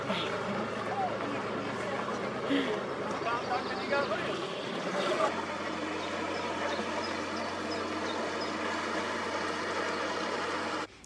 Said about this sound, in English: the wonderful sounds of the boats passing and the noise of their engines